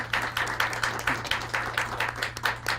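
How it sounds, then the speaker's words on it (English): A round of audience applause for Lady Sherry at a community-building gathering, a dense, even patter of many hands clapping, moderately loud, with no talk over it. "Please, a round of applause for Lady Sherry."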